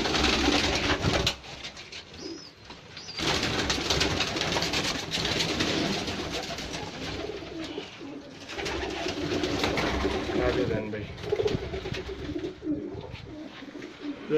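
Pigeons coo continuously in a pigeon keeper's loft, a dense, fairly loud layered murmur of many birds that carries on for the whole stretch with brief dips.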